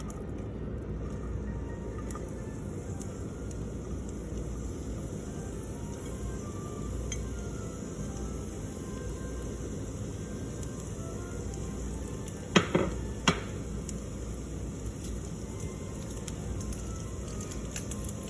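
Onions sizzle in oil in a pan for vegan gravy, a steady close frying hiss throughout with a couple of brief clinks of utensil against pan near the middle.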